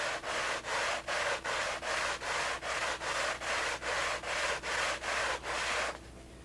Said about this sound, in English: Just get a light sanding on the old sanding belt.